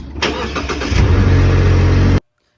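A vehicle engine cranks briefly, catches and settles into a loud, steady idle close by before the sound cuts off abruptly.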